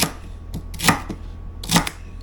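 A knife chops celery on a cutting board for a moose stew, giving a few crisp, close thuds spaced unevenly, each with a sharp crunch, and no one speaking.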